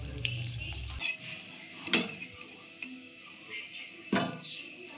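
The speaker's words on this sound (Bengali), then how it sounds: "তো দেখো ফুচকাগুলো ভাজাটাই দেখো।" Fuchka puris fry in hot oil with a constant close sizzle, broken by occasional sharp clinks and scrapes of a utensil against the pan.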